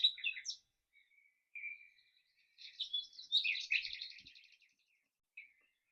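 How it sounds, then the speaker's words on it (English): Small birds chirp and trill in short bursts separated by silence, a few brief tweets then a longer rapid warbling phrase, quiet and clear. "we're going to use an auditory prompt this morning, and that is going to be the sound of birds chirping"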